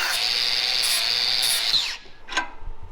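A power tool cuts a marked piece to length with a loud, steady high whine for nearly two seconds, then winds down, followed by a brief sharp scrape.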